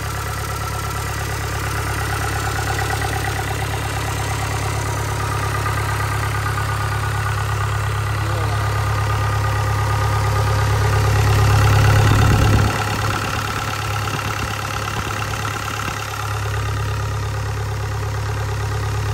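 A Kubota DC70 with a V2403 diesel engine idles steadily during a test run, a loud, close, even rumble that swells briefly near the middle before settling back to the same smooth idle.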